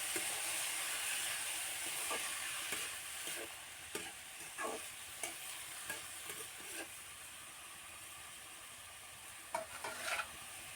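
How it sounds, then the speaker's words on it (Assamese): A spatula stirring chopped greens into frying onions in a pan for an Assamese fish curry, with scraping strokes over a soft steady sizzle, fairly quiet and close. "শাকখিনি দিয়াৰ পিছত লৰাই দিলোঁ হেতাখনেৰে"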